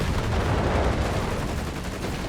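Flak guns fire in a Company of Heroes 3 battle, a dense continuous roar of rapid booming shots and blasts, loud and close, filling the whole stretch without any voices.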